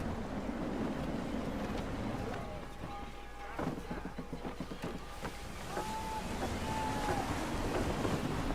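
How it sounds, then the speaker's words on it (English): Wind rushing and waves washing against a sailing ship's hull in the Assassin's Creed 3 video game, a steady broad roar with a few faint tonal creaks, playing continuously without talk. "Gusty winds can be difficult to manage."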